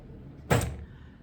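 A drawer shut with a single dull thump, close by and fairly loud, followed by a short rattle over quiet room tone.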